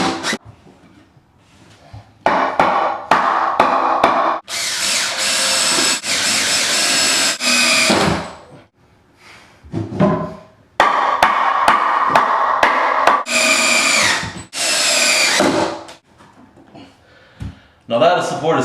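Long drill-driver bursts sinking 3.5-inch deck screws into wooden supports for a subfloor repair in a house, several sustained whirring runs with short pauses between them, close and loud, with a person talking during the gaps.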